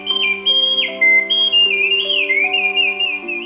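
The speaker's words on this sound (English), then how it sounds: "the song of this magician's bird is created not by an electronic recording, but by tiny mechanical bellows and a whistle" An automaton magician's bird sings through tiny mechanical bellows and a whistle, giving clear, loud, warbling whistled notes that slide and jump in pitch over a steady reedy drone.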